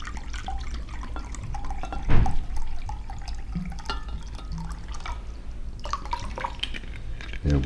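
Spring water poured from a cup into a blender for mango, peach and almond butter ice cream, a steady liquid splash and drip running throughout at close range, with one sharp louder knock partway through.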